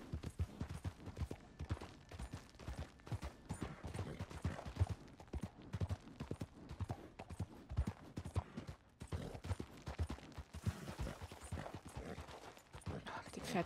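Rapid, rhythmic clip-clop of horse hooves at a gallop in Red Dead Redemption 2, continuous and fairly close, with quiet game sounds behind.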